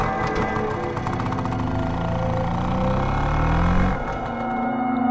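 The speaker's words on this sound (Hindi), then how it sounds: "स्कूटर लेके जाने लगते हैं।" A scooter engine runs in a cartoon horror story, holding a steady, rough mid-pitched drone with a rising whine near the end before easing off, loud and continuous with no talk over it.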